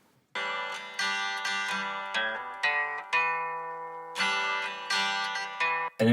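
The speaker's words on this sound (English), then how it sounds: "what we've got going on is an acoustic guitar that sounds like this" Strummed acoustic guitar, EQ'd for a studio mix of a song, playing the song's opening section alone: bright, close chord strums in a loose rhythm, each ringing and decaying before the next, with no voices.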